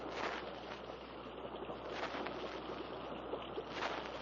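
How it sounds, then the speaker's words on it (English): A distant waterfall somewhere ahead on a jungle river gives a steady, broad rushing roar that holds evenly throughout, with faint rising swells and no voices. "Sounds like a waterfall somewhere ahead."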